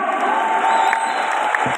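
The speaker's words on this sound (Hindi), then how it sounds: "एक बार जोरदार तालियां एवी वायरल के लिए भी हो जाए" An audience bursts into loud applause and cheering, with whoops and shouts in a dense, continuous roar of clapping close by.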